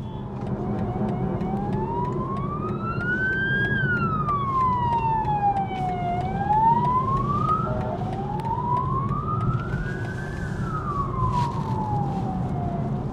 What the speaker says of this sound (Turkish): Bir tane ambulans geçti, hemen yol verdim.